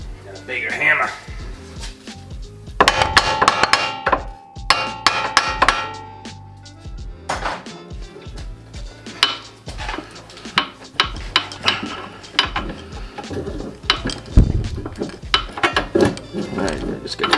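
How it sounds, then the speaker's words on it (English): Repeated metal hammer blows ring out during removal of a Ford Focus RS engine, with a bigger hammer driving at a tight, WD-40-soaked joint; sharp clangs land in uneven bursts, close and loud, with someone talking between strikes. "And a bigger hammer."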